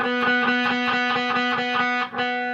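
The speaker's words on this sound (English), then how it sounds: "So the filter, it's like opens up, right?" Electric guitar chord sustained through a distortion and filter effect pedal, with a rhythmic pulsing sweep that brightens as the filter opens, loud and steady, briefly dipping near the end.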